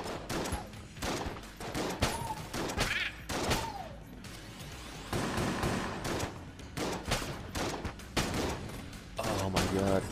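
Gunfire from the video game Enter the Gungeon: dense, rapid volleys of shots and bursts, loud and continuous, mixed with game effects and some voice in between.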